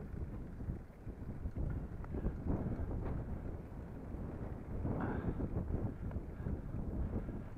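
Wind buffets the microphone of a cyclist riding a bicycle path in Groningen, a low, gusty roar that rises and falls continuously and fairly loud throughout.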